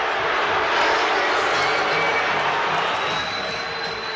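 A dense, steady roar from a large arena crowd at a 1993 Bulls at Cavaliers NBA playoff basketball game, loud and continuous throughout and fading slightly at the end, with no clear individual voices.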